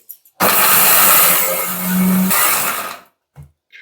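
An electric mixer grinder grinds roasted coriander seeds in a loud, close whirring burst of about two and a half seconds that shifts in tone, then cuts off, followed by a couple of brief knocks.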